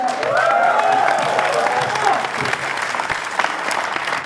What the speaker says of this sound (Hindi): क्या बात है दोस्तों, जोरदार ताली।